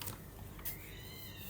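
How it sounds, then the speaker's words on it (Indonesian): Cats fighting outside at night give faint, distant yowls and wavering cries through a noisy indoor background, with no talking. "Kayak berantem tuh kucing di luar."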